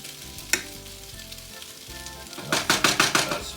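Shredded potatoes fry over high heat in a pan, with a steady background sizzle broken by a sharp clack and then a burst of scraping stirs and clattering against the pan near the end.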